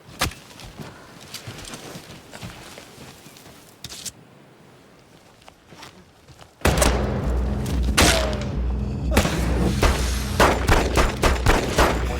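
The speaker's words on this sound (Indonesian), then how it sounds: "tembakan demi tembakan dilepaskan oleh Kikimora" Rapid volleys of gunfire crack and thud, quieter at first, then a sudden loud stretch of dense, overlapping shots and booms.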